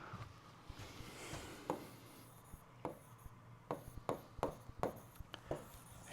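Writing on a board: quiet, scratchy strokes come in short bursts and grow more frequent and distinct toward the end, over a faint room hum.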